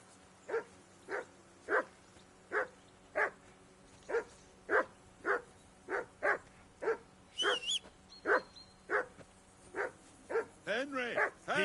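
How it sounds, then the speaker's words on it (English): A dog barks over and over in Kingdom Come: Deliverance 2, with about a dozen evenly spaced, loud, near barks and a brief whine near the end over a low background hum. "That barking was a pain in the ass."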